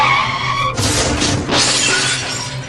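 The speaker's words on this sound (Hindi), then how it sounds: "गाड़ी का एक्सीडेंट हो गया।" A car accident in an animated horror story: tires skid, then a sharp crash of shattering glass bursts out, followed by more crunching debris and settling noise, loud and close with no talking.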